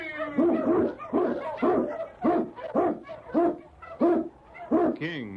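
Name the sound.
Eskimo husky lead dog barking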